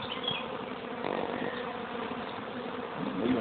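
A swarm of bees buzzes all around, a dense droning hum close by with shifting layers of wingbeats and no talk over it.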